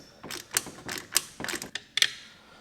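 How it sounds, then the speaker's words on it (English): A socket ratchet with an 8mm socket clicks in short, close bursts while a retaining bolt comes out on a 2023 Ford Raptor during a blow off valve fitting, about seven quick ratcheting strokes with no voices. "we're going to grab an 8mm socket. We're going to remove our retaining bolt."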